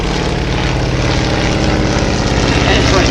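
Waco UPF-7 biplane from 1937 with a Continental W670 radial engine at an air and car show in Little Gransden, its loud steady propeller drone running close by throughout.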